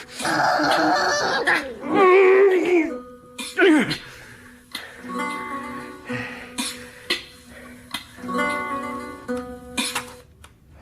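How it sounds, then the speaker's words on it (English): Coughing from a character in a radio drama, several harsh throat-clearing coughs at close range, mixed with voiced sounds and talk. "And I did say I'd get rid of that cough for you, didn't I?"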